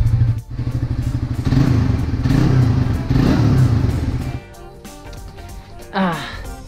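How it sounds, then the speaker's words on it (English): A small motorcycle engine, its exhaust freshly repainted, runs steadily at close range with a low, throbbing idle and rev swells. It settles quieter partway through, and a voice talks briefly near the end. "try natin paandar lang muna siguro yung motor for few minutes."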